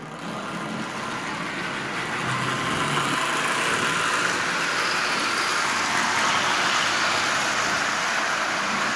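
A Marx Santa Fe diesel toy locomotive pulling fourteen Marx cars runs along its rail, a steady close motor whir and hum that rises in strength after the first couple of seconds and holds even, with no talk.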